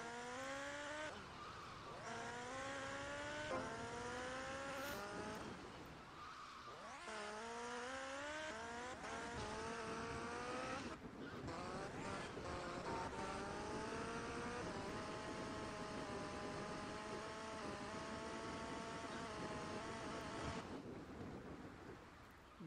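A motorbike is ridden in GTA Vice City, its engine note climbing and dropping through repeated gear changes at steady volume for about twenty seconds, with no talking.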